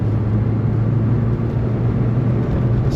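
Renault 5 GT Turbo hot hatch in second gear, engine droning steadily and loudly from inside the cabin as the turbo comes on, with no voices.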